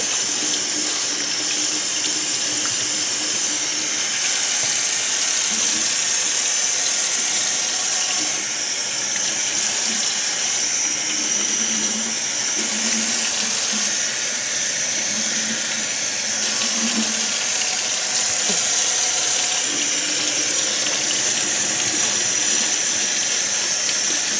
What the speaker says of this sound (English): Now you want to wet both sides of the hat just to make sure that the brim is pliable.